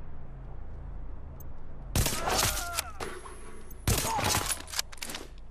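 Bursts of gunfire in The Division, two sharp volleys of rapid shots with a short gap between them, loud against a quieter game background.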